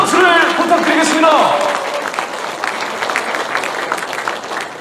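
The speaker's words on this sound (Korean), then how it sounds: "다시 한번 큰 박수를 부탁드리겠습니다" Applause from an audience at a Korean Democratic Party political event, loudest at the start, then tapering into a steady, softer patter of clapping with talk mixed in over it.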